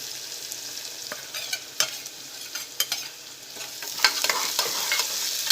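Chopped onion sautéing in a pan for a Gujarati pea and potato curry, a steady hiss of frying under scattered scrapes and clicks of a spoon stirring, growing a little louder toward the end, no talk.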